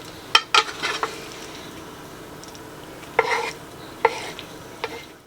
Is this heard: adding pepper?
yes